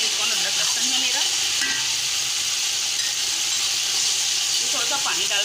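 Two tablespoons of ginger garlic paste fry in a pan for a biryani, giving a steady, close sizzling hiss that runs throughout without a break.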